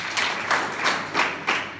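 A few people clap in slow, separate bursts, about five claps at an even rhythm, fairly close and moderately quiet.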